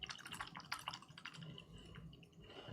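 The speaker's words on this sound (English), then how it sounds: "wash out our brush" A paintbrush is rinsed in a water cup while a WizKids Lizardfolk miniature is being painted, giving soft dripping and swishing liquid sounds with small splashes and trickles, close and fairly quiet.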